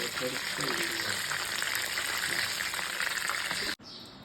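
Chicken leg pieces fry in hot oil with a dense, steady crackling sizzle close by, and a faint voice underneath. The sound cuts off abruptly near the end.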